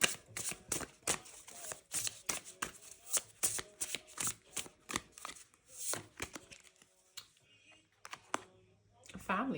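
A deck of cards is shuffled up close for a card reading, with rapid riffling and flicking bursts in a steady run that thin out toward the end.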